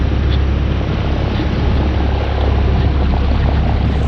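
A sailboat's engine runs steadily while motor sailing, a loud, continuous drone with no breaks and no voices over it.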